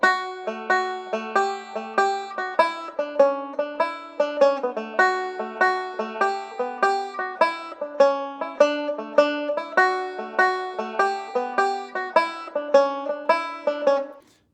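A plucked tenor banjo plays a bouncy slide rhythm, a steady stream of bright, quickly decaying notes with a lilting long-short pulse throughout.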